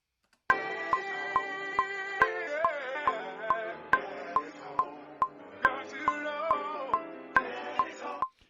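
Sampled vocal loop from a Drake-style beat, transposed down one semitone, plays alone as sustained pitched tones over a steady, regularly spaced percussive tick.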